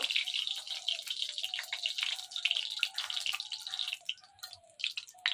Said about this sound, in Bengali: তেল গরম হয়ে গেছে, শুকনো লঙ্কা আর জিরে দিয়ে দেবো। একটু দূর ছিটাইছে জিরা।